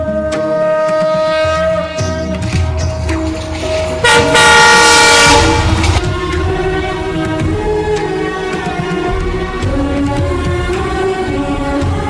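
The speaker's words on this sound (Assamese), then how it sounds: "আজি ৰেল আহি আছে" A train arriving at Dudhnoi railway junction in Goalpara sounds its horn in long, loud, sustained blasts over the rumble of rolling wagons, with a brief louder rush midway and no voices.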